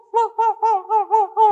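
A human voice imitates a puppy's friendly sound with six short, evenly spaced, bright yipping calls, clear and close with no other sound.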